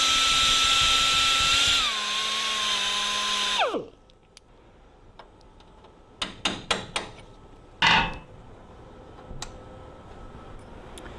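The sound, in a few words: grinding down a brass lock nut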